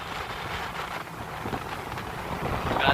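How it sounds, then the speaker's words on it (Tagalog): Strong wind buffets the microphone outdoors at Vertis North along Quezon Avenue in Metro Manila, a steady broadband rush that swells slightly toward the end, with no voices. "Lakas ng hangin ngayon."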